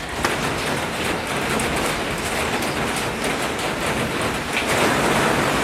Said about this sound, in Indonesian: hujan yang disertai petir dan gludok itu sangat jarang sekali ya